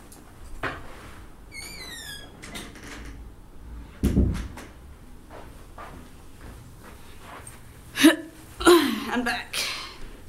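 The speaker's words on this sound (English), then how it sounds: "I'm going to close the door" A door, left wide open, is shut with a couple of dull thumps and a rattle amid shuffling movement and footsteps, while a person breathes and makes small vocal sounds nearby.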